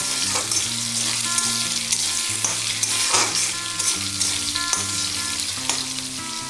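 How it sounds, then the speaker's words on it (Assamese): Salted potatoes frying in a pan, a loud, close, steady sizzle broken by several stirring scrapes, with a low hum running underneath and nobody talking. "নিমখখিনি দি লওঁ, ভাজি থাকোঁ।"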